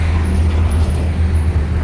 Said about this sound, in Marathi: आणि इथून गाड्या येतात आहे.